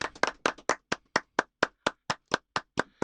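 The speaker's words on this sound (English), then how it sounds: "Everybody clap your hands." Hands clap in a steady, even rhythm, about fifteen crisp claps in three seconds, close and distinct with silence between each one.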